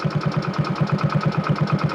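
A new motorcycle engine runs at idle, a loud, close, rhythmic thumping of fast, even pulses with no voices over it.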